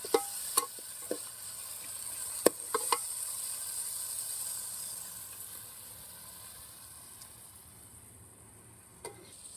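Masala paste sautés in a pan for mutton thokku, a soft continuous sizzle that slowly fades, with a few sharp clicks of the spoon against the pan near the start, no voices.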